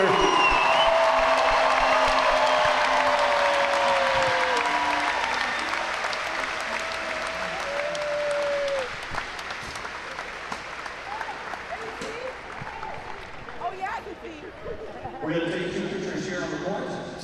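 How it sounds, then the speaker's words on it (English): Arena crowd at a Hawaii vs CSU Bakersfield senior night game applauds the lone senior, loud clapping with whistles and cheers that gradually fades, while an announcer talks over it and scattered claps resurge near the end. "Fans giving her a nice round of applause"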